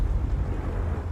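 A Confringo blasting spell from Hogwarts Legacy goes off as a deep, rumbling burst that rolls on steadily, loud and close, with no voices over it.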